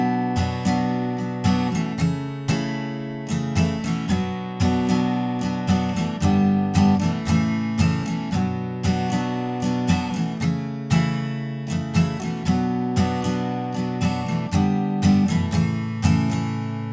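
Steady guitar strumming of the intro and verse chords, a brisk, even rhythm of bright chord strokes sustained throughout, alone without voices.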